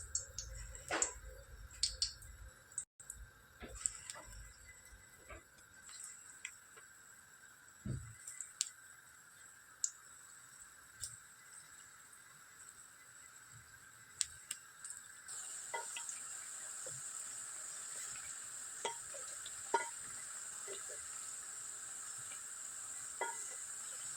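Ragi muthiya dumplings fry in hot oil with a steady, soft sizzle and scattered faint pops and ticks, close by and continuous throughout, growing slightly brighter partway through.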